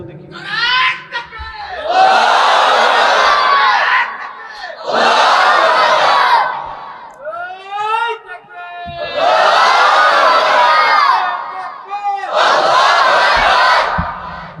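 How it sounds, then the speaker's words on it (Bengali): A crowd at a Ramadan Islamic sermon (waz) roars out the takbir in four loud, sustained chants. The surges are separated by brief lulls that hold scattered voices. "একজন জোরে তাকবীর দেন তো দেখি।"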